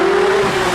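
A Porsche 911 GT3 engine revving high toward 9,000 RPM, a loud, sustained, close mechanical howl holding a steady pitch that sags only slightly over a brief moment.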